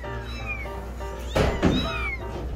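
Several newborn kittens from a litter of nine meow repeatedly in short, high, wavering cries, close and fairly loud, with a brief rustling thump midway.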